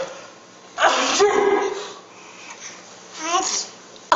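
A small child sneezes once, near and sharp, followed by soft babbling and breathy sounds, then a second brief burst.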